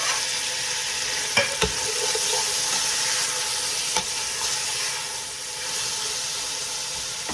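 Tomatoes and chili hit hot oil in a pan while a Pakistani-style vegetable biryani is being cooked, giving a loud, steady sizzle and hiss. A few sharp clicks and pops break through it, and no one speaks.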